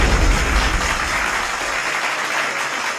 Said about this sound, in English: Let me drop some claps